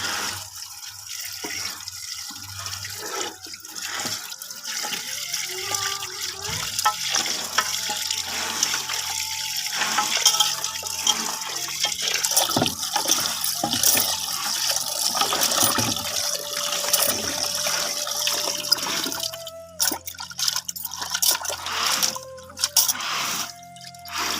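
Water splashes and swirls steadily as chicken feet are washed by hand in a bowl, with continuous sloshing and dripping close up for the whole stretch.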